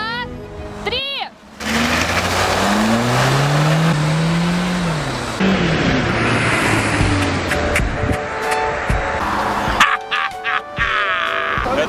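A car accelerates hard from a standing start in a 30-metre one-way sprint race against a runner, its engine rising and sweeping upward in pitch, loud and close, with people talking and shouting over it.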